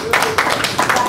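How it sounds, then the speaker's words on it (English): Short burst of audience clapping at a live comedy show, a few quick bursts of claps amid crowd noise, brief and fairly close. "Round of applause."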